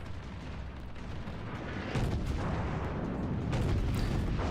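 Secondary guns of the North Carolina battleship in World of Warships firing a salvo, a dense continuous rumble of booming shots that grows louder partway through.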